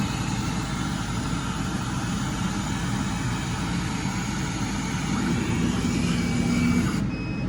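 A laser cutter cutting out a sign design runs with a steady, loud whirring drone of fans and motors, continuous and close, cutting off abruptly near the end.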